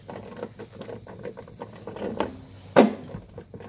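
A wrench gives a final hard turn on a plastic part of a Poulan push mower, making one short, sharp crack-like click close by after a stretch of quieter ratcheting and handling noises.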